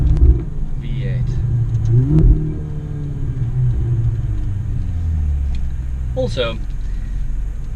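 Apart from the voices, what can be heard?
Ferrari 488 Spider turbocharged V8 engine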